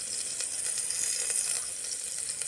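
Oil heating and sizzling in a clay pot on the stove, a steady close hiss with faint crackles throughout.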